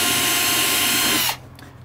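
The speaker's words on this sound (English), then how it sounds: "Don't skimp on drilling pilot holes." A power drill whines steadily as it bores a small pilot hole in hard laminate, running loud and close for about a second and a quarter before cutting off into near quiet.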